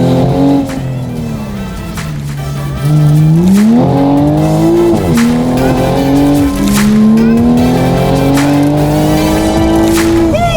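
A widebody 2020 Toyota Supra revs loudly and close by, its engine note rising and dropping repeatedly through a series of downshifts, with faint tire noise and a few voices in the background.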